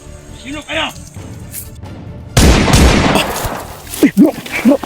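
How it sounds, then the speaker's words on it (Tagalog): Bursts of rapid gunfire crackle in a game soundscape, with voices talking before and after the shots. "narinig ko yung mga putok bro"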